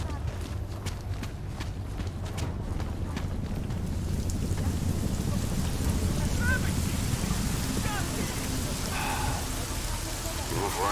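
Steady rain in Deus Ex: Mankind Divided, a dense broadband hiss with wind-like rushing that holds at an even, moderate level throughout, with no talking over it.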